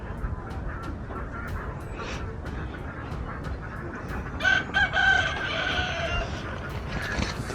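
Chickens and ducks call out over steady outdoor noise in Greece, with a rooster-like crow and clucking and quacking bursts standing out midway, fairly close.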